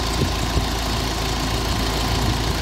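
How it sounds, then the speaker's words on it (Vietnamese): A Ford Everest engine idles with a steady, loud mechanical hum and faint knocking, heard up close with no talk, the car having a faulty air-conditioning expansion valve. "Đây là động cơ đang chạy nhá."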